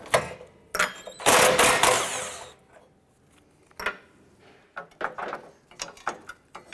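A 10mm bolt is removed from the radiator bracket of a 2009-2015 Honda Pilot, giving close, sharp bursts of ratcheting and metallic clicks, one long rattling spell, then scattered short clicks and taps with quiet gaps.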